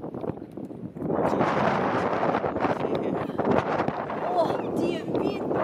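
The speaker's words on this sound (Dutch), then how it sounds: "die wind." Wind blowing on the coast at Knokke, a loud broadband roar buffeting the microphone continuously after the first second, with people talking faintly beneath.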